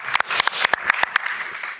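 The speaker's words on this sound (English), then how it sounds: "I think we should give a round of applause for the three" A small live audience at the Heart of Clojure conference gives a brief round of applause, a short burst of sharp, uneven hand claps up close.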